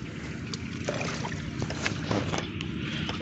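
Steady rushing water from the Bengawan Solo river at a foundation work site, a continuous broadband wash with faint knocks and wind-like noise throughout.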